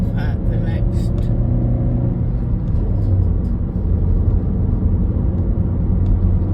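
Steady loud engine rumble and road roar from inside a car joining a motorway, continuous and close, with a person talking over it near the start.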